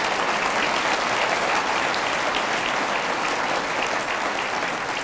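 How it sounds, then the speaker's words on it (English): Loud, sustained applause from a large audience at the Federalist Society's Barbara K. Olson Memorial Lecture, a dense steady clatter of many hands lasting the whole stretch with no voices on top. "when you all clap"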